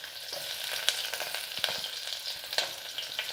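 Chopped onion sizzling in hot oil with cinnamon and clove while being stirred. The frying hiss is steady and close, broken by occasional scrapes and pops, with no voices.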